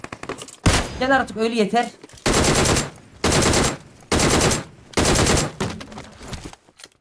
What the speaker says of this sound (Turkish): Arkadaşlar DP ile vuracağım.